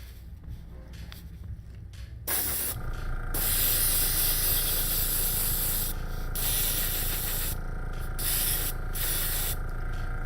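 Steady hiss of an airbrush spraying paint onto a 3D printed D.Va cosplay piece, starting after a quieter stretch and running loud and continuous with brief pauses in the spray.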